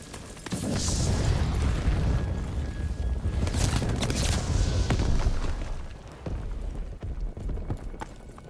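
Heavy booms and rumbling blasts in the World War II D-Day campaign of Call of Duty WWII, including a grenade explosion, with loud low-pitched impacts and scattered gunfire over about eight seconds.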